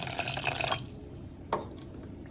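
Water pours into a bowl of semolina and curd batter in a short splashing stream, then falls quiet apart from a single drip-like plop and faint trickles, heard up close without speech.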